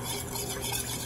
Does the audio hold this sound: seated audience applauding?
no